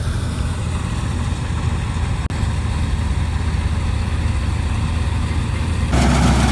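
A tractor engine runs steadily at idle by a roadside, a close, continuous low rumble that holds even throughout with no talking.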